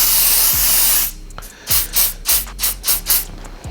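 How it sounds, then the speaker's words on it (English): A long continuous hiss of spray adhesive onto tearaway embroidery stabilizer, then several short bursts of spraying in quick rhythm, close and loud. "spray some more"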